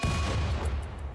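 Dense, booming explosions in the video game RimWorld, a continuous rumbling barrage for about a second that tapers off, with faint crackling bursts at the tail.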